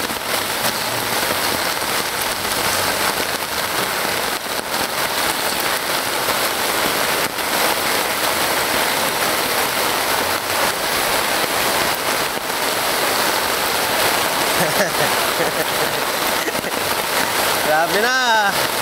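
Rain pours steadily onto deep floodwater in a flooded street in Manila, a continuous dense hiss with sloshing water throughout, and a voice speaks over it.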